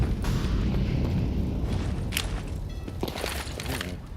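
Grenade explosions in a professional Counter-Strike match, heavy rumbling blasts and sharp bursts layered over dense in-game noise, loud and continuous throughout.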